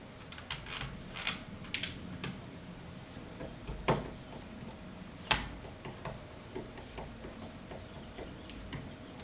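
Screw being driven by hand while mounting a YHV door lock: a series of small irregular clicks and ticks with a couple of sharper knocks, close by and fairly faint, with no talking.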